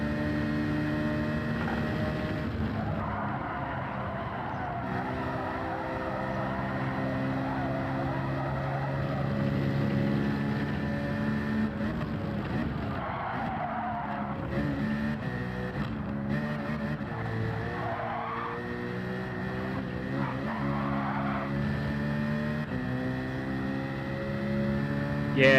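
A racing car engine droning and shifting pitch in Gran Turismo 7 during a daily online race, a steady mechanical hum rising and falling as the car accelerates and brakes, with little talk over it.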